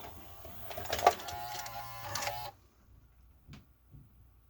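A 1984 Toshiba Beta VCR, model V-S443C, whirs and clicks as its mechanism tries to load a tape. There are about 2.5 seconds of busy mechanical buzzing with a sharp click, then near silence broken by a few faint taps.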